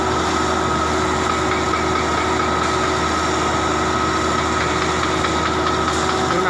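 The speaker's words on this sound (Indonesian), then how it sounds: "Itu mesinnya kerjanya ngebur batu aja ini" A rock drilling machine bores into stone, producing a loud, continuous heavy mechanical drone with a steady hum and no pauses.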